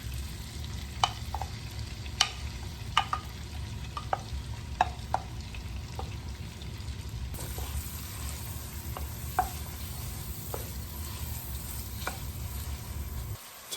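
A large onion and two garlic cloves frying in a pot, a steady low sizzle with scattered sharp clicks and utensil taps, growing brighter and more hissing about halfway through.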